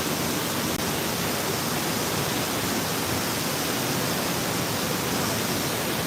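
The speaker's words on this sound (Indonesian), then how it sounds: "Salah satu objek wisata yang ada di daerah Kabupaten Pesisir Selatan, yaitu air terjun Bayang Sani" Bayang Sani waterfall in Pesisir Selatan, running heavy after a big flood, gives a steady, dense broadband roar close by that holds unchanged throughout with no voices.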